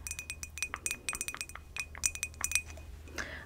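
A glass of water clinks and rattles close by in a quick, irregular series of bright taps, as if the glass is handled and set down, with no voices.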